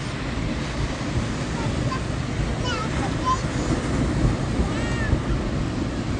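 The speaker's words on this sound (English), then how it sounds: "The calming waves at night is the best." Ocean waves on a beach at night make a steady broadband wash with wind across the microphone, and a faint high squeak or two drifts over the surf.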